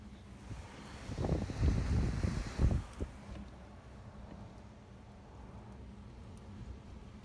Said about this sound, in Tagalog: Ang lakas-lakas din ng hangin. Maririnig nyo yung ano, yung hangin.